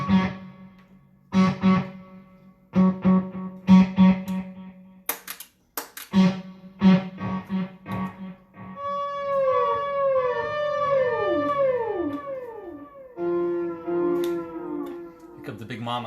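A human voice imitates whale song through effects processing, starting with rhythmic vocal bursts and then sliding into long swooping, echoing moans that rise and fall for several seconds.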